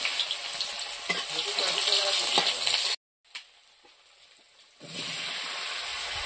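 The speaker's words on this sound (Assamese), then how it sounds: "এতিয়া প্ৰথমতে কাঠালুখিনি অলপ ভাজি ল'ব লাগিব" Elephant yam pieces frying in hot oil in a village kitchen, a loud, steady close sizzle that cuts out briefly, goes quiet, then resumes just as strong.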